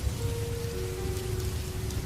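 Cartoon rain falls at night in a steady, close patter on surfaces, with a low rumble beneath and a faint sustained tone running through, no voices.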